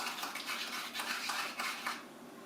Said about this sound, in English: Shake it around, maybe stir it up a little bit.